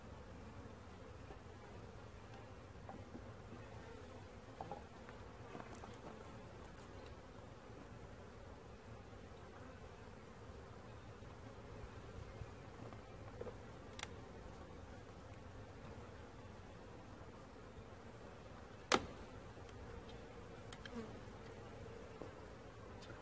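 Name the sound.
honeybees buzzing around an open beehive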